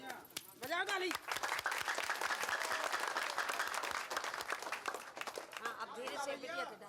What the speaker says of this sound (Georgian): ტაში დაუკარით